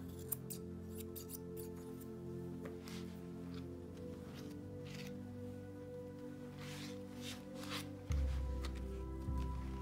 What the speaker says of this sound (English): You could brush this hair up and trim up any unevenness.